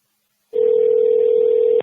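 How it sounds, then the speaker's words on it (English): A steady single-pitch telephone tone sounds for over a second, loud and unbroken, then cuts off abruptly. "This time it's ringing."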